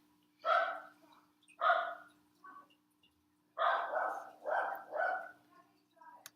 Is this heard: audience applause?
no